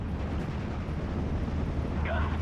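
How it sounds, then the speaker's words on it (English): Mortar carriers fire onto a tree line in the Steel Division: Normandy 44 battle game, with a heavy, continuous rumble of distant blasts and artillery booms and a brief voice near the end. "Mortar carriers firing away onto this tree line as more infantry is brought towards there."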